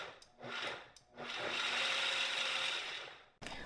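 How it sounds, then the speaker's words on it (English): A blender pulsing cashews with vinegar, sea salt, mustard and granulated garlic for a vegan dressing gives short grinding bursts, then one long whirring run that stops and briefly restarts. "you want to pulse these a few times to break down the cashews"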